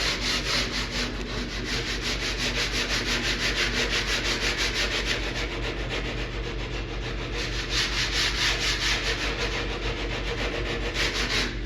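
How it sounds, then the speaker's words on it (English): A hand block sander is rubbed along the edges of a particle board Paperboy arcade cabinet in quick, close, regular strokes. The rhythmic scratching stays loud and steady over a low background hum, with no talking. "use a hand block sander for the edges"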